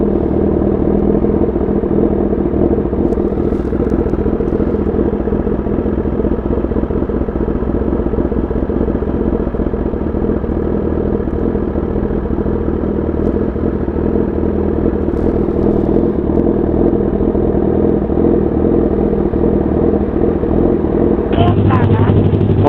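A sport motorcycle engine drones loud and close on a midnight ride through Tagaytay alongside a CBR1000RR-SP2, Z900 and Z650, a steady, heavy exhaust rumble with voices faintly heard under the roar.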